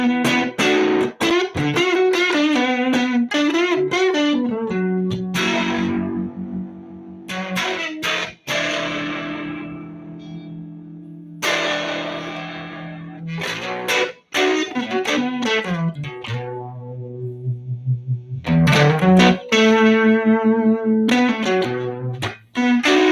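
Electric guitar played through a distortion effects pedal, loud sustained overdriven chords and riffs with bursts of strumming and ringing notes across the whole passage, no talking.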